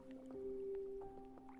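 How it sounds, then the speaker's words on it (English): Soft squishing drips and trickles of water in the video game Cabernet, a few gentle liquid plops over a faint steady tone, quiet and close with no talking. "I love listening to water."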